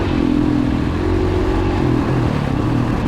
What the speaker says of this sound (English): So here I'm revving it out.